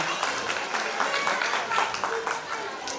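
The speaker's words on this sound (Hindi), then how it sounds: "एक बार जोरदार तालियों से सभी का स्वागत करें।" An audience claps at a school annual function, a steady spread of hand claps lasting a few seconds at moderate loudness, with voices underneath.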